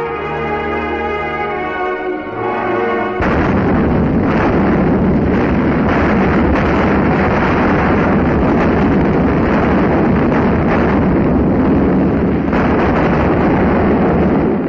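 Heavy artillery fire rumbles during the 1943 Dnieper river crossing, a dense roaring wash of distant blasts and noise that starts abruptly after a brief musical passage and continues loud throughout.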